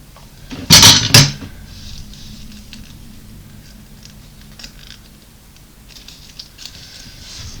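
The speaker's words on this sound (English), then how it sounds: "I'm also going to throw my bowl tool on the floor." A papercraft bowl tool lands on the floor with a sharp double clatter, then quiet rustling and small taps of paper handling follow.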